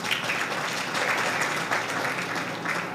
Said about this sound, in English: A round of applause to Mercy.